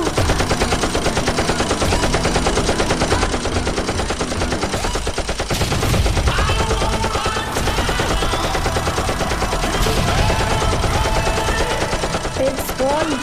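Sustained gunfire in an action film scene from KGF, dense rapid machine-gun bursts blasting loudly and continuously, mixed with music and shouted voices.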